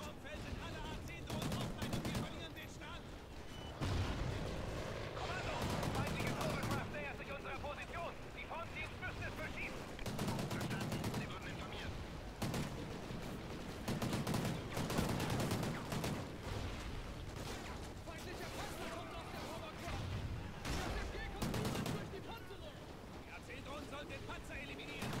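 Gunfire from a weapon in the single-player campaign of the video game Call of Duty Ghosts rattles in repeated bursts and volleys, with short pauses between them, under a dense backdrop of game noise across the clip.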